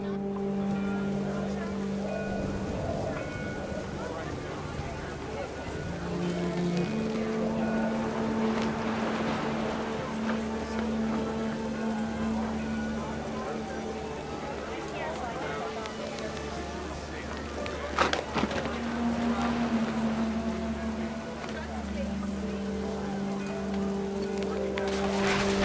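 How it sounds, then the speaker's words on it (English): Heavy rain pours in the video game What Remains of Edith Finch, a steady broadband wash under a narrator's voice and a sustained musical score, with a louder gust near the middle. "The rain came down in buckets then"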